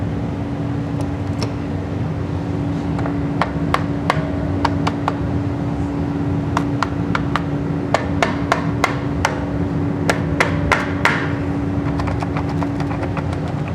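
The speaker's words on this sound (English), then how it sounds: "Hammer." Sharp metallic hammer strikes on a stuck brake line bolt of a 1948 Willys CJ-2A Jeep ring out in irregular bursts over a steady engine-like hum, some blows coming in quick clusters.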